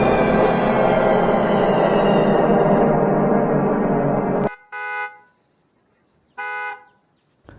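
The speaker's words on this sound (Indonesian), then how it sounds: "terbangun dari tidurnya karena mendengar suara klakson mobil yang ditekan berkali-kali" A car horn blares loudly in one long sustained tone, then is pressed again for two short, separate honks with brief silence between them. No one speaks.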